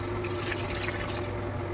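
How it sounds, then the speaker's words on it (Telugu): Water poured into a large cooking pot for veg biryani during a community food preparation, a soft continuous trickle and fill over a steady low hum, faint and without voices. "ఇప్పుడు వాటర్ అయితే పోస్తున్నాం"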